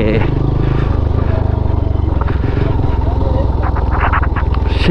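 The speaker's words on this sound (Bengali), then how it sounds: "এই যে অনেকগুলা বাইক এইখানে," Many motorcycles crowd the grounds of a bikers' fest in Comilla, their engines a loud, continuous low drone with rumbling idle and occasional revs, while voices talk over the noise.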